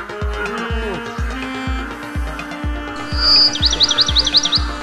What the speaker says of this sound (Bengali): কত পাখি, দেখো।